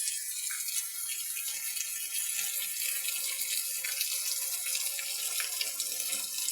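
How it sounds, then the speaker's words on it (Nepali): Heavy rain pours steadily in a bright, dense hiss with light gusts of wind, a continuous close downpour with no voices. "यति ठुलो पानी परिरहेको छ यो"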